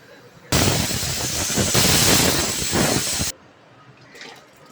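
A bowl of water is poured into a pressure cooker pot holding a farali dish, a loud, steady splashing pour lasting about three seconds that stops abruptly into quiet.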